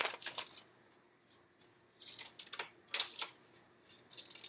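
Scissors snipping through paper for a kindergarten frog craft, a few short crisp cutting bursts separated by quiet pauses, close and fairly faint.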